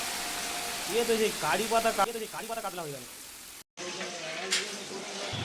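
Onion paste sautés in a pan with gandharaj lemon leaves for a doi katla fish curry, giving a steady soft sizzle beneath a person talking throughout.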